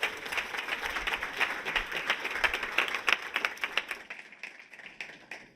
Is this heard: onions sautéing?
no